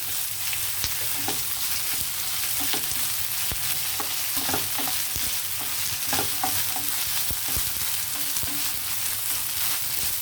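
Green chillies and ginger garlic paste fry steadily in a pan for a bitter gourd dish, giving a continuous close sizzle with scattered scraping stir clicks and no voices.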